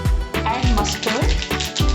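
Mustard seeds splutter and crackle in hot oil in a kadai over a high flame, a dense, close, continuous sizzle with sharp pops running throughout.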